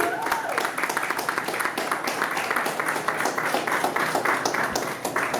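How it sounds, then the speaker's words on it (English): A ceremony audience claps steadily for a finalist called up to the stage at the inaugural Capital Connections event, a dense, continuous wash of applause that holds evenly throughout. "Can we give a round of applause to Jonathan Harris"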